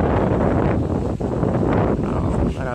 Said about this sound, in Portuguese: As rajadas de vento, a chuva pegando lá do outro lado do rio, ó.